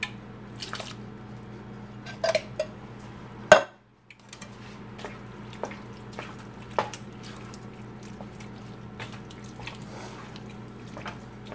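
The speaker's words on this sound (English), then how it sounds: "So I'm gonna add the rotel tomatoes." Canned Rotel tomatoes tumble into a pan of melted cheese for family nachos, giving wet squishy plops and drips with a few utensil clinks, one sharp clack, then quiet soft stirring sounds close up.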